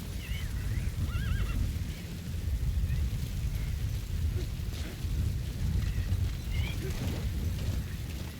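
Horse in Metal Gear Solid V: The Phantom Pain neighs and whinnies a few times, with galloping over a steady, loud rumbling background.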